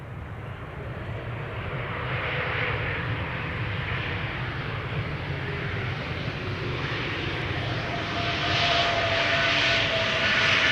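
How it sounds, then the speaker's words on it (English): A JetBlue Airbus A321neo arriving from New York JFK descends to land at Amsterdam Schiphol, its engines producing a continuous broad roar that holds steady and swells slightly near the end, heard from a distance with no voices. "JetBlue, wouldn't want to miss it. Coming in from New York, JFK, A321neo."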